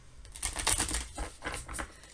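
Tarot cards shuffled by hand in a series of quick papery riffles and slaps, close and fairly quiet, with no voice over them.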